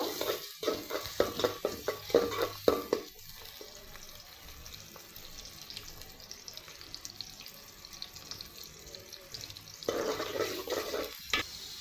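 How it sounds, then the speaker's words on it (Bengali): Chopped onions fry in a pan in a home kitchen: a few sharp scraping stirs at the start give way to a soft, continuous sizzle, which swells again with stirring near the end. "পেঁয়াজটাকে ভালো করে ভেজে নিব।"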